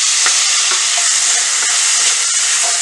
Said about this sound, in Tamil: நல்லா வதக்கிட்டே இருங்க.